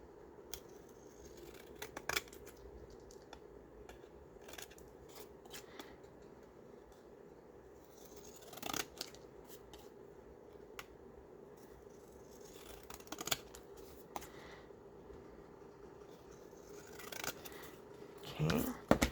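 Pinking shears snip through paper while making a handmade card, a run of crisp, close cutting clicks and scratches in quick bursts, with a few louder snips near the end and a steady low hum underneath.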